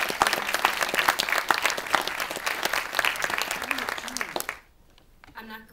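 An audience at the Silverdocs 2008 documentary festival awards presentation gives a round of applause for the festival staff, dense and fairly close clapping that gradually thins and stops before a brief quiet with a voice beginning.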